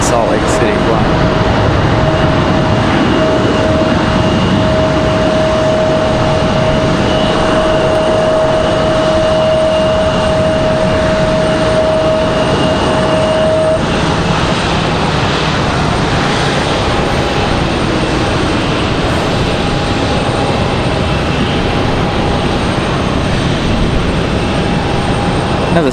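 A Delta jet airliner at Raleigh-Durham airport rumbles loud and steady for a long stretch, its broad engine roar holding a sustained whine, with people talking over it.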